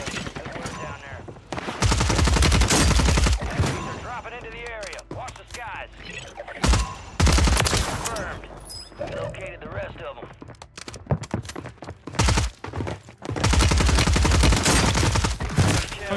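Rapid bursts of STG44 gunfire in the Warzone video game, loud and repeated in clusters with pauses between volleys, mixed with game effects and a player talking over the action.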